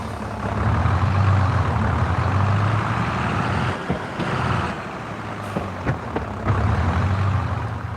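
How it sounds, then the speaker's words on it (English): Farming Simulator 22 vehicle with manual transmission: a steady engine drone drops away briefly as gears shift, with mechanical clunks and clicks during the shift before the engine note returns. "For all vehicles that have manual transmission, we have also added gear shift sounds."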